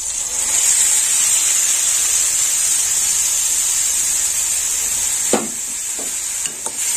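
Ground spice paste fries in a pan for a small-fish and onion curry, giving a constant bright sizzle and hiss. A few soft stirring scrapes come in near the end.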